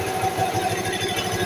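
A Motorstar Nicess 125 motorcycle engine idling after a carburetor tune, a steady, close, mid-pitched putter with an even pulsing rhythm and no voices.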